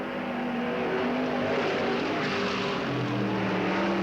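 Race cars, including a Ford 360 trailing a little smoke, circle the dirt track at Riverside Speedway in 1991, a continuous dense roar of engines with shifting pitches as cars pass at a moderate distance.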